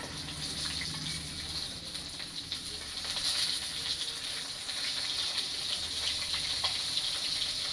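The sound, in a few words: fish frying in oil in a pan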